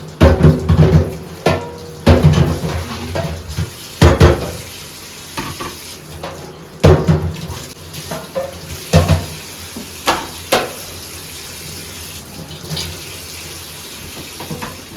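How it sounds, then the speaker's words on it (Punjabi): Water splashes and gurgles into a clay pot in bursts, with irregular loud pours separated by quieter moments, close and alone without talk. "ਇੱਧਰ ਆਪਾਂ ਆਪਣਾ ਘੜਾ ਭਰ ਲਈਏ"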